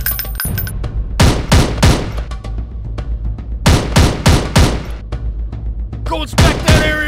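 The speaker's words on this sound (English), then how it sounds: "Enemy fire! Get down! Get shot!" Enemy gunfire in a video game: loud, close bursts of rapid automatic fire in several clusters, separated by short pauses, with a few heavier thumps mixed in.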